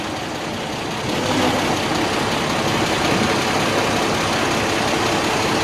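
A tow truck's engine runs steadily at a single-vehicle crash site, a loud, continuous broadband rumble that rises slightly after the first second and holds without a break.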